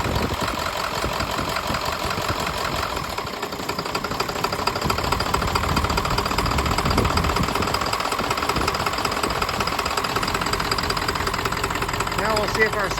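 A Ford 7.3L engine idles on only four cylinders with one unplugged, giving a steady, loud, close mechanical rumble with a rough, knocking texture throughout.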